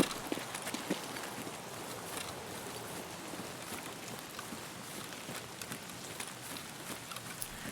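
Steady hiss of rain in the video game Escape from Tarkov, with scattered patters and pops, constant and fairly loud, with no talking.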